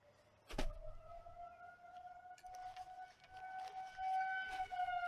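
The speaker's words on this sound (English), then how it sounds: "they test out the warning sirens" Civil defense warning sirens wail steadily in the distance during a test, their sustained tones rising and layering, with a sharp knock early on and faint background noise.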